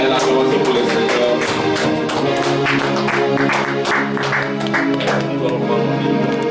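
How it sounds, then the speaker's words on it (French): A church congregation applauds in praise, a sustained dense patter of many hands clapping through the whole stretch, with voices and music tones mixed underneath. "Acclamation pour le Seigneur."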